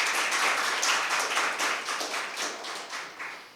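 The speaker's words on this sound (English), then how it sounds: "I'll ask you to give them a round of applause." Audience applause at the final round of an impromptu speaking competition: dense, steady hand clapping from a sizable crowd that holds strong for a few seconds and then begins to taper off.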